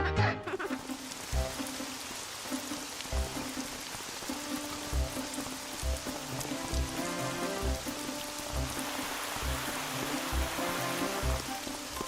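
Steady rain pattering on surfaces with a soft rushing wash and occasional heavier drips, continuous and moderately close, with faint music-like tones underneath.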